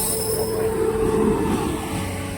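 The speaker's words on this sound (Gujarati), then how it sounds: "ટ્રેન આવી ગઈ છે આપણી જબલપુર" A Somnath–Jabalpur passenger train pulls into a station with a steady, loud rolling rumble and a thin, sustained wheel squeal running underneath, with no voices.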